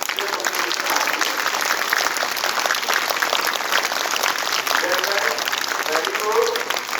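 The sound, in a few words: children applauding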